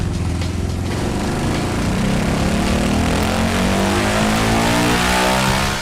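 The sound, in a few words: Yamaha Raptor 700 ATV engine running on a dyno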